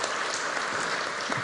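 Church congregation applauding during an award presentation, a steady wash of many hands clapping at moderate distance, continuous and even.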